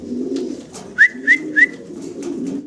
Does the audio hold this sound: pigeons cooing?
yes